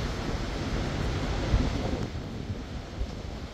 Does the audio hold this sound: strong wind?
yes